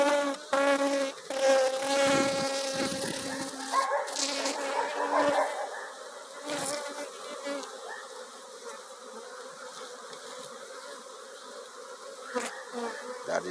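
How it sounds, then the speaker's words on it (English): Honey bees from an open beehive in Jamaica, being removed by a beekeeper, swarm and buzz close by, a dense fluctuating drone with louder swells early on and a softer steady hum later. "Don't want to crush too much bees."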